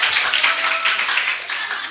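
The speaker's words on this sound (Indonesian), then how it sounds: "boleh tepuk tangan untuk kakak kita deh semua" Brief burst of audience applause at a student entrepreneurship seminar in an auditorium, steady dense clapping filling the whole moment without a break.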